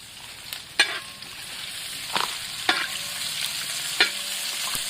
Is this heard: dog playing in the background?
no